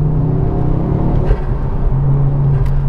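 A loud Ford Focus RS Mk2 engine drones and rumbles from inside the car, steady intake and exhaust noise with slight shifts in pitch as it pulls along.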